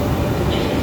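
An electric commuter train runs with a steady, loud, rumbling interior roar, heard continuously from on board.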